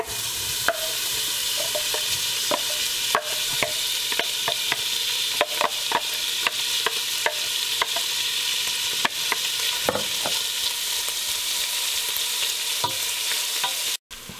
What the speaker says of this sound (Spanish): a freír esto, ¿ves?